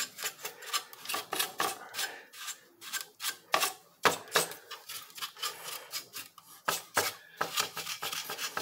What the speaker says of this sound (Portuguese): Dá uma limpadinha aqui, né, no lado desse soquete.